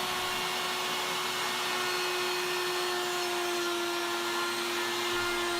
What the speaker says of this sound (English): what I have in my router table here is a 1/2 inch spiral cutter, and it's going to cut slots for me to insert my hinges into